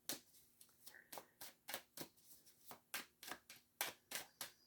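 Tarot cards from an unboxed deck being shuffled and squared up by hand, a run of about fifteen crisp, close riffling bursts in an uneven rhythm, heard alone without any talk.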